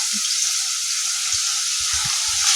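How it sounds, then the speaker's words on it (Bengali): Constant close frying sizzle fills the clip as cut potatoes fry in oil in a wok, with soft low knocks of food being stirred in the pan. "কড়াইতে তেল দিয়ে দিয়েছি এবার আমি কেটে থাকা আলুগুলোকে দিয়ে দেবো"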